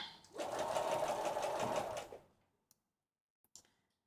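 A home sewing machine runs a continuous stitching burst of about two seconds, loud and steady, then stops, followed by a few faint clicks and a small mechanical tap near the end.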